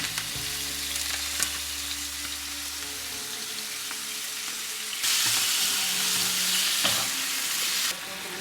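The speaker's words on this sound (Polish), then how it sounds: "Kurczaczka przełożę teraz na rozgrzaną patelnię. Poleję odrobiną sosu sojowego i ostrej papryki mielonej." Steady sizzling of chicken frying in a hot pan with soy sauce and ground hot paprika, a continuous hiss that swells louder partway through, with occasional stirring clinks.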